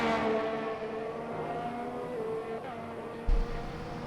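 Race car in a simulated Qatar league race starting a hot lap, engine droning steadily with shifting harmonic pitch throughout and a brief louder thump near the end.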